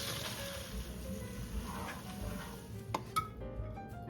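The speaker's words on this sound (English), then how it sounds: "Time to toss and mix in that rigatoni." Rigatoni pasta with raisins and diced pimiento being stirred and tossed in a pot, soft scraping and clinking of a utensil against cookware with a few sharper knocks near the end.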